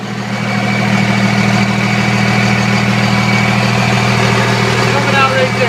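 A Cummins diesel engine in a Dodge pickup with a six-speed idles steadily nearby, a constant low rumble with someone talking over it throughout.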